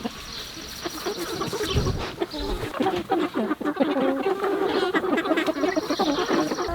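Chickens clucking and murmuring continuously on a farm while being moved, several birds close by with soft trilling calls and some rustling.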